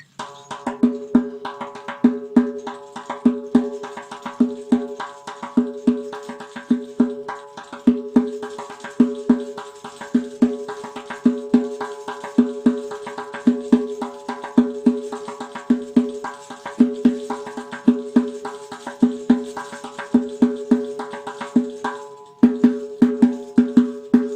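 A doira frame drum beats a steady, driving rhythm, each stroke shimmering with the jingle of its many small copper or metal rings, played alone and fairly loud.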